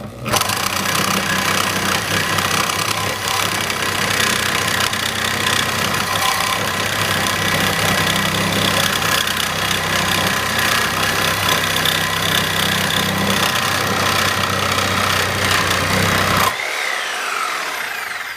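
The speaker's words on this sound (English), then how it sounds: "so now we got the Lenox 18 TPI bimetal blade. Go ahead and start cutting on this. This is 3/4 inch mild steel." A reciprocating saw fitted with a Lenox 18 TPI bimetal blade cuts through 3/4 inch mild steel with a loud, continuous buzzing grind that holds steady for about sixteen seconds, then stops abruptly.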